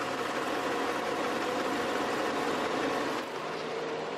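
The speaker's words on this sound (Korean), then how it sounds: "엔진 소음 먼저 들려드리면은" Steady, low mechanical hum of a Mercedes-Benz S-Class long-wheelbase hybrid engine idling, very quiet, even and continuous throughout, with no voices.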